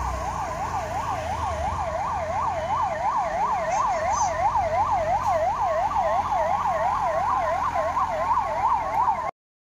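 A 108 ambulance serving pilgrims on the Ashadhi Wari 2024 route to Pandharpur sounds a loud, rapidly warbling electronic siren that wails continuously for about nine seconds over faint road noise.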